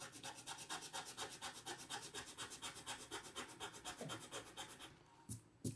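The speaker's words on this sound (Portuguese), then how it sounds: "Teste da borracha, borrachinha da Faber-Castell, aquela borracha lápis" A Faber-Castell pencil-style eraser rubs rapidly back and forth across paper, giving close, quiet, rhythmic scratchy strokes that stop near the end, with no talking.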